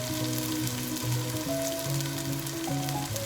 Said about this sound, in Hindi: इसमें मैं ग्राइंड किए प्याज डालूँगी।